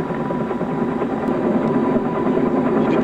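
A Mi-10 air crane helicopter drones steadily and loudly with a dense, continuous rotor and engine roar, no talk over it.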